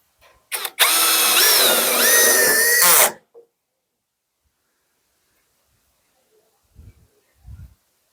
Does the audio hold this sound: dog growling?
no